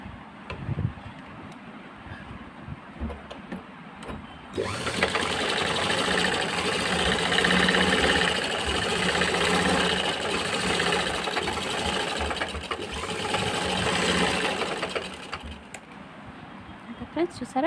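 A home sewing machine stitches a handbag, its steady rapid whirring hum running alone for about ten seconds between quieter stretches with faint handling sounds and a voice at the edges.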